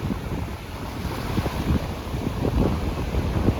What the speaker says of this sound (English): The wind raised the water.